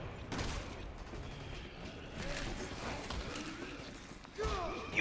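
Gunfire and grenade blasts from Resident Evil 6 on its hardest difficulty, a dense run of shots and bursts with one heavier impact near the end, mixed with game sounds and a voice talking over it.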